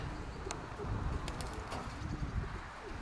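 Soft pigeon cooing, faint and distant, mixed with low murmurs and a few brief higher chirps over steady background noise.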